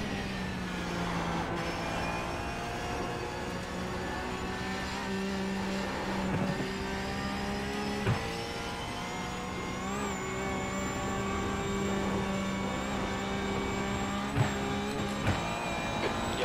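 A race car engine drones steadily through a long stretch of simulated track driving in iRacing during a Michelin Pilot Cup session, its tone shifting slightly with throttle. Faint clicks and brief squeals of tyres break in now and then.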